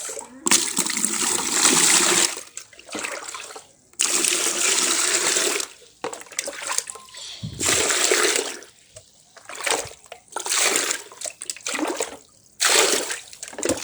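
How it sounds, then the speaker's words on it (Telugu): Water is poured onto plants from a container in about half a dozen separate bursts, each a close, splashing gush lasting a second or two, with short quiet gaps between pours. "ఇప్పుడు మనం నీళ్ళు వేసుకోవాలన్నమాట ఫ్రెండ్స్"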